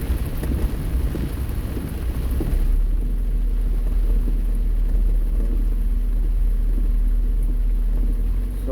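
Rain drumming on a car driving along a road, a steady broadband wash over deep low road and engine rumble, with a heavier burst in the first few seconds before easing to a constant patter.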